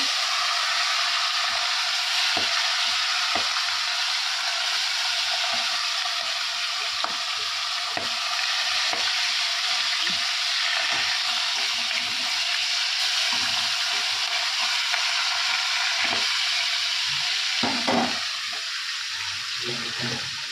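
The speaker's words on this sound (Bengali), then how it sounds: "মাছটা ততক্ষণ ভাজা হোক।" Fish sizzles and crackles steadily in oil in a pan for the whole stretch, close and even, with occasional soft clicks and light kitchen knocks.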